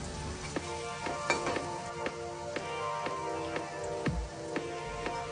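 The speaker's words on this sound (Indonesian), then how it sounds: "Nah, ini gorengnya terus kita aduk-aduk ya Moms, agar ikan asin bulu ayamnya tergoreng merata" Salted feather-chicken fish frying in hot oil over medium-low heat, a constant close sizzle broken by regular light scraping clicks as the pieces are stirred around the pan.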